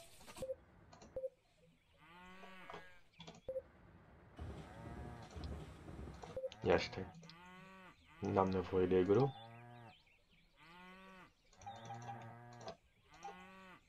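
Cows mooing in a farm-style video game, several drawn-out lowing calls spread across the stretch, moderately close, alternating with someone talking.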